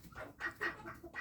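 Chickens cluck in a coop at night, several short, close bursts in quick succession with a restless, uneven rhythm.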